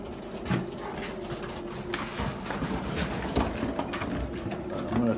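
Hungry pigeons at feeding time murmur and coo in a low, continuous bed of sound, with scattered shuffling and light knocks. Faint human sounds can be heard now and then.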